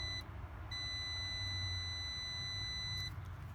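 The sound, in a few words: multimeter continuity beep while testing a sensor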